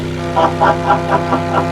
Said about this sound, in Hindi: ये बोट की हॉर्न की ही आवाज है।